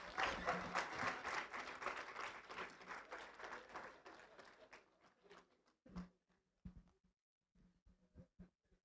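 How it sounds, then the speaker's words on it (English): Applause from guests at a book launch, a moderately loud round that thins out after a few seconds into scattered individual claps. "A very big round of applause."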